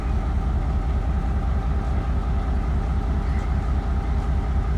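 The Chenab Express rumbles steadily at Mandi Bahauddin railway station, a continuous loud low drone of engine and rolling stock with no voices.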